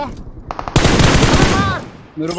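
Video game gunfire crackles in a dense automatic burst, loud and close, broken by a sharp opening shot and ending as a voice cuts in; players talk over the fight.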